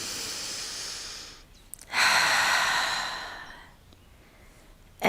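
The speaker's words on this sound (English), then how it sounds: "Just keep breathing deeply." Deep breathing during a yoga stretch in a park: a soft airy breath, then a longer, louder whooshing exhale that slowly tapers off, close to the microphone.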